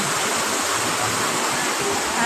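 Loud, constant rushing roar of the second tier of a waterfall in Saraburi, Thailand, broadband and unbroken, heard up close with no other sounds standing out.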